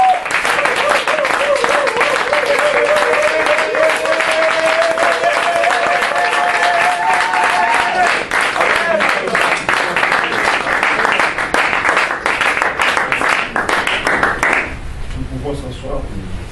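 A congregation at a youth gathering in church applauds loudly and without a break for about fifteen seconds, with voices and a sustained tone mixed in, before the clapping dies away.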